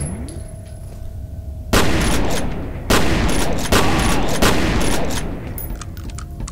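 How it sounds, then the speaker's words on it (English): Shotgun blasts in F.E.A.R., four loud, close, punchy shots spaced about a second apart, each with a sharp crack and a decaying echo, followed by lighter clatter. "Nothing like the shotgun in this game, man."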